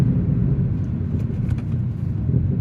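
A tuned Ford Fiesta ST Mk7 HP300 by Hendy Performance drones along with a steady, loud low engine and induction rumble heard from inside the car, with no voices.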